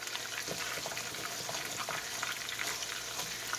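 Salisbury steak patties sizzling in a pan while being pressed flat, a steady moderate frying hiss with faint scraping and soft spatula taps, no voices.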